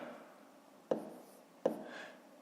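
A pen writes numbers by hand during a fifth-grade long-division math exercise, two faint taps on paper followed by soft scratching strokes, close and quiet over light background hiss.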